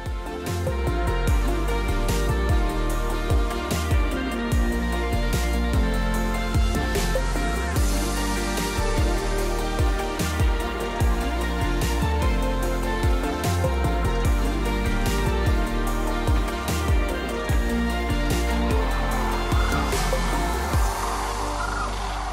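A dense chorus of sandhill cranes calls in a field by the Platte River in Nebraska during the spring migration. Many overlapping rattling, trumpeting calls continue without a break, loud and steady throughout.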